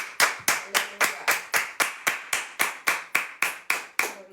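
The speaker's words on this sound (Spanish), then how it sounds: "Des aplauso a Jesús." A church congregation claps in unison, sharp evenly spaced beats about three per second, crisp and fairly close, with no talking.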